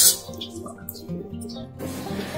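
Water drains from freshly boiled cowpeas resting in a kitchen strainer, giving a soft, steady trickle with scattered drips that grows into a broader, louder gush near the end.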